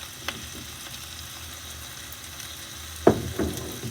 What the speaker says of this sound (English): we're just going to almost wok fry that. You want this on a nice high heat